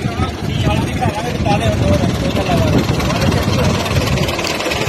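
A Belarus 510 tractor engine idles nearby in a Punjab field with an 18-disc plough, a steady mid-low rumble running throughout while someone talks over it.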